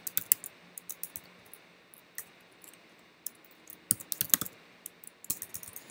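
Quiet typing on a computer keyboard, irregular light key clicks in short bursts with scattered pauses, close and soft, with no voices.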